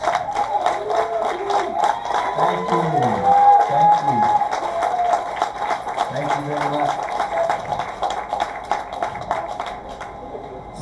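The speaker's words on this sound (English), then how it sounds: "let's give our veterans a good round of applause" An indoor audience at a Texas NORML member meeting in November 2019 applauds veterans who have stood up: steady, dense clapping across the whole stretch, with a voice speaking over it, tapering slightly toward the end.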